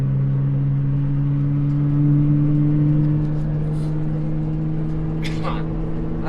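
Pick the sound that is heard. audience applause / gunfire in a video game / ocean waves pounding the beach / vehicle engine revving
vehicle engine revving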